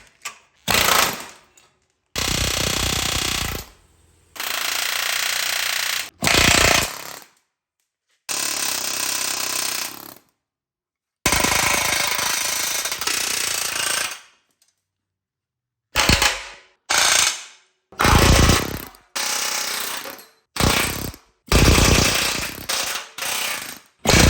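Bolts tack-welded to the lower cross member of a 1987 Chevrolet K10 square body truck being broken loose with a power tool, loud repeated bursts of hammering separated by silent gaps.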